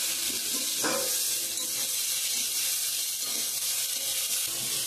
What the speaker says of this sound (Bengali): জল অ্যাড করে দিয়ে দেব।